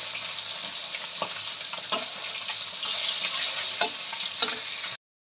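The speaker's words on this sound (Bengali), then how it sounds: "মাছ এপারটা ভাজা হয়ে গেছে। এবার আমি মাছটা উল্টে নেব।" Grass carp pieces fry in hot oil with a steady, close sizzle, while a few sharp knocks and scrapes stand out as the fish is turned piece by piece.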